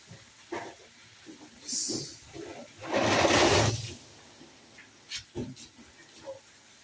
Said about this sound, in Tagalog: Lalagyan ko siya ng konting tubig para yung karne ng manok ay lumambot.